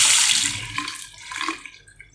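Water rushes from a freshly repaired bathroom sink faucet, a loud steady hiss at the start that thins out and fades over about two seconds, with no voices.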